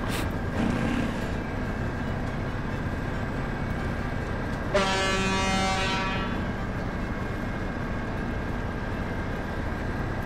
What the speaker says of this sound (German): Soll ich noch hupen?